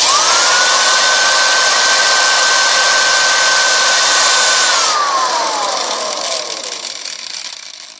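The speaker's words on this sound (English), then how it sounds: "move the drill bit down maybe 1/4 of an inch" Drill grinding grooves into a bentonite clay rocket nozzle, a loud steady whine that holds for several seconds, then slows and drops in pitch as the drill winds down.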